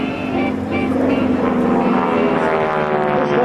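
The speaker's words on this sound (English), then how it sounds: "he rolls the airplane in what fighter pilots would call a victory roll" A propeller airplane performing a victory roll at an Air National Guard open house airshow drones loudly and continuously overhead, its engine note shifting slightly as it maneuvers.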